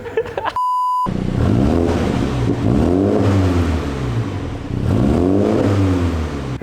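A 2020 MINI John Cooper Works GP's twin-tip sport exhaust revs loudly in two rising and falling surges after a short electronic beep, deep and close.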